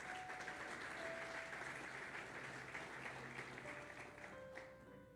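A church congregation claps together in a faint, continuous patter, heard from some distance over sustained musical tones, with no break in the clapping for about five seconds.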